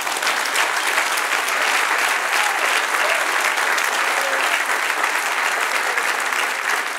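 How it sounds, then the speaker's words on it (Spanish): Congregation in a church applauding together, a dense, steady wash of clapping that holds loud and even from start to finish with no talk over it. "Dale un aplauso, Señor."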